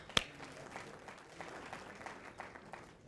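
Short burst of audience applause at a community association keynote speech, moderately faint and scattered, with one sharp clap near the start and thinning claps through the rest.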